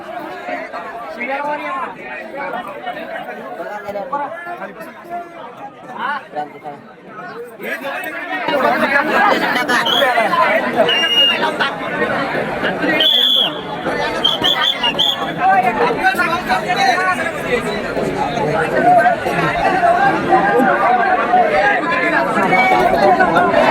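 A large crowd of trekkers chatters at Harihar Fort, a steady babble of many overlapping voices that grows louder and busier partway through, with scattered footsteps and movement.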